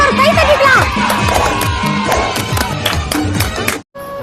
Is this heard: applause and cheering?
yes